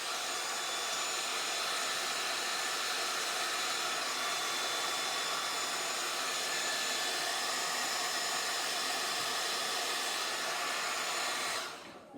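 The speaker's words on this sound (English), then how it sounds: "now I'm going to dry that." A hair dryer blows steadily on a freshly painted watercolor tree, a loud, even rush of air that runs nearly twelve seconds without pause before cutting off abruptly at the end; no one speaks over it.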